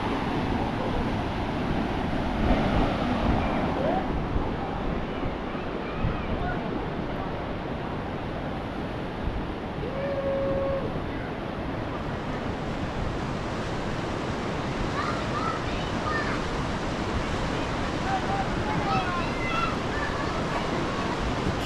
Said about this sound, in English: we stopped at one of the roadside cascades. Sacred Dancing Cascade.